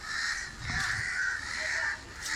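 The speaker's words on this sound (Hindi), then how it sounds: "ये कौवा क्यों चिल्ला रहा है।" Crows caw steadily outdoors, their harsh calls overlapping in a continuous, moderately near chorus, with no talking.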